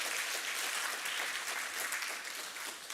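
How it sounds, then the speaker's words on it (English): A conference audience at Devopsdays Eindhoven 2023 applauds steadily, dense close clapping filling the hall for the full stretch without a break. "Let's do one more round of applause for Claude"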